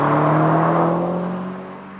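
Vauxhall Adam S small hatchback pulling away, a steady engine drone with strong low humming tones that gradually fade as the car moves off, fairly loud at first and heard alone.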